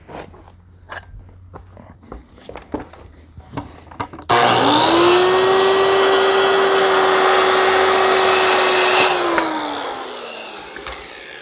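A power saw bites into wooden roof rafters for a solar power shed, its loud whining cut running steadily for several seconds before winding down, after a stretch of quiet taps and handling noises.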